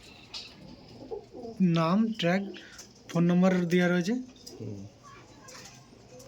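Madrasi pigeons coo in repeated rounded, throaty phrases close by, with a person talking between and over the calls.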